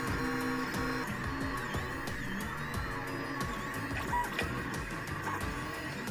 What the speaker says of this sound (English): I printed out the pieces for this project on the LuzBot Mini printer, and I'm using Matterhackers Pro PLA plastic.